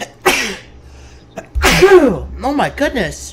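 A single loud, close sneeze bursts out abruptly, followed by people exclaiming and talking nearby.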